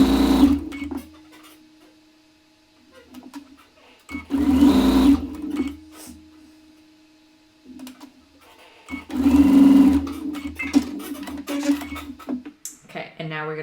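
A sewing machine stitches quilt pieces together for a granny square block in three loud, close bursts of whirring needle chatter, separated by quiet pauses with occasional soft voice in between.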